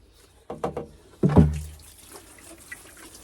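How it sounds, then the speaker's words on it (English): Water poured onto a garden carrot bed in a few short splashing bursts, the loudest around the middle, then a faint trickle as it soaks in; no talking. "Just water it all in."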